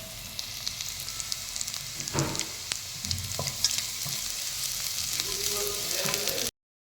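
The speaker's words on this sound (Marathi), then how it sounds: "आपण तयार केलेलं जे वाटण शिल्लक होतं या तेलात परतून घ्यायचं" Ground spice paste fried with cumin in hot oil in a kadhai sizzles steadily and close, broken by a few scraping stirs of the spoon.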